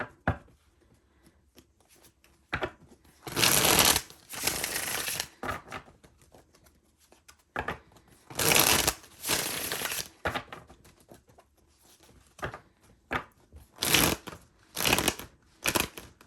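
Repeated bursts of tarot card shuffling, crisp riffling rattles in several separate rounds with quiet pauses between, close to the microphone.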